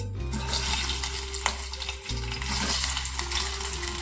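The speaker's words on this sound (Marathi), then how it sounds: "तेल आपलं छान गरम झालंय त्यानंतर आपण जे उकडून बटाटा घेतला ते यात परतून घेऊ" Boiled potatoes fry in two spoonfuls of hot oil in a pan, giving a steady, soft sizzle with faint stirring and a low hum underneath, and no voices.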